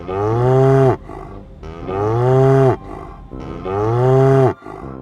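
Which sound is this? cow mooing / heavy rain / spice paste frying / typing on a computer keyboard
cow mooing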